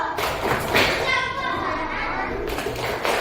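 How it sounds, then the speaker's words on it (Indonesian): A classroom of children does a thumb-clap pattern, with a few broad, muffled claps and thuds mixed with children's voices and an adult talking. "Tepuk jempol aja ya. Tepuk jempol."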